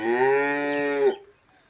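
A cow on a farm gives one long, loud, close moo lasting about a second before it cuts off, leaving near silence.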